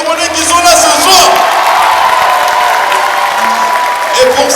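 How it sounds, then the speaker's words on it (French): Concert crowd at a show in Libreville, Gabon, claps and cheers loudly and steadily throughout, with whoops and shouted voices mixed into a dense, continuous wash of sound. "Applaudissements encore pour tous les Gabonais qui sont là ce soir."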